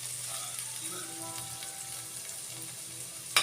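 Vegetables for veg fried rice sizzle and fry quietly in a pan, a steady soft crackle, ending with a brief sharp clink near the end.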